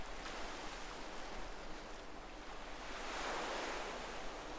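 Soft, steady ocean surf washes in the distance, a broad hiss that swells gently toward the end, with no voices.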